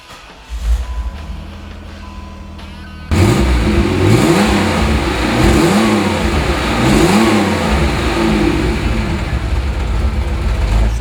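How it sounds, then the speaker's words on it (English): A 1988 Pontiac Fiero Formula with a V6 engine cranks for about three seconds, then catches and settles into a steady, close, loud idle with a throaty rumble. "General Motors was able to get a sound out of these V6s that I think sounds really nice."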